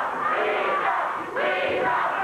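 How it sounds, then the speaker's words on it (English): A wrestling crowd at a 1990 USWA event yells loudly and continuously, a dense roar of many voices with a brief dip midway. "Crowd yelling, weasel, weasel,"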